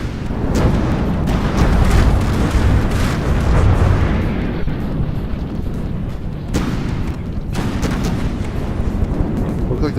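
Continuous booming from tank cannon fire and explosions in the video game King of the Hill, with dense, loud, rumbling blasts filling the whole stretch and sharp impacts standing out near the middle and end.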